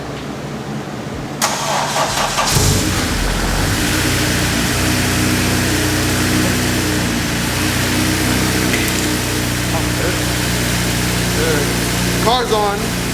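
A Honda FA5 with an all-motor setup starts up and settles into a loud, steady idle close by, its deep rumble running throughout, with brief voices at the end.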